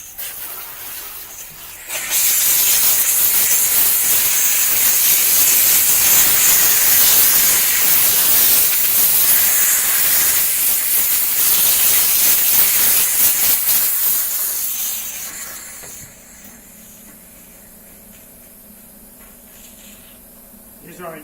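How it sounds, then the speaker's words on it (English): Chief Steamer 125 PSI steam cleaner hisses steadily on a car's front grill, loud continuous spray for about thirteen seconds before dropping to a softer hiss and low hum. "what we'll do now with the rest of the steam and the injection, we'll clean the whole grill area, the emblem,"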